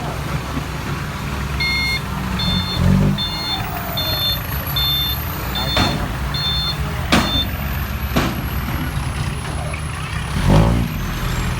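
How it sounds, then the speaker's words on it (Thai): A cement mixer truck rolls past at a merit-making fair, with repeated reversing beeps, loud air-brake hisses and deep engine rumble close by, plus scattered crowd noise. "คันนี้รถอะไรรถปูนใช่ไหมครับรถปูนเดี๋ยว รถปูนมาเลยครับ"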